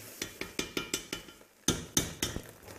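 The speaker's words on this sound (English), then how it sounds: "So now let's cook the meat with the tomato paste." Minced meat with tomato paste worked in a pan for a Bolognese, a steady series of close, sharp scraping and knocking strokes of a spoon against the pan, about a dozen in quick rhythm with a short pause near the middle.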